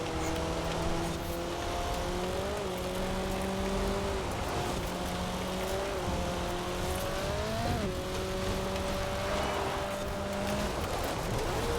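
Toyota Celica engine in the racing game Forza Horizon 4, with an automatic gearbox, droning steadily at high revs. Its pitch climbs and drops back at each gear change, under a constant layer of road and tyre noise.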